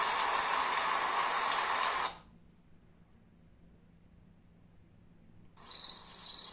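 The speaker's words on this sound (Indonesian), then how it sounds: "Ini suara di dalam hutan banyak jangkrik gitu di malam hari ya." A night forest cricket effect from a minimalist MIUI 13 phone theme: after a burst of broad hiss ends and a pause of near silence, a shrill, pulsing cricket chorus starts abruptly and closes the clip.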